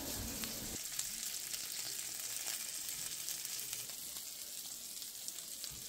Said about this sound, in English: You hear some sizzling. I have some sausage cooking